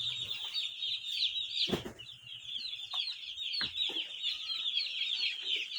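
Newly hatched chicks peep nonstop inside a warm brooder, a dense high chorus of chirps with a few soft knocks and rustles beneath.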